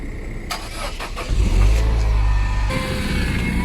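A Citroën C4 Picasso with 92,000 km cranks briefly, then its engine catches and settles into a strong, steady idle nearby, with no voices over it.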